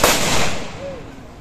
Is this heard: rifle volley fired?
yes